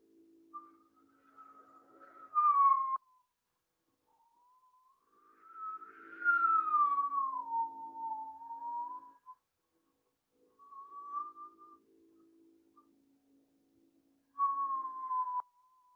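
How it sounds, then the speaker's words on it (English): A soft, pure whistle made by breathing through pursed lips during a yoga class, long gliding tones that rise and fall in several separate breaths with quiet gaps between, close and gentle. "begin that whistle breath"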